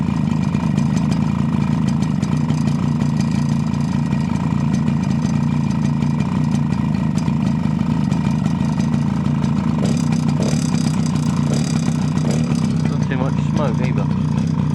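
Old quad bike engine idling close by, a steady low rumble with a constant throb and some rattling through the whole stretch, with a voice talking over it.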